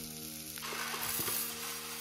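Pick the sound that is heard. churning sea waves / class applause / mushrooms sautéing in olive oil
mushrooms sautéing in olive oil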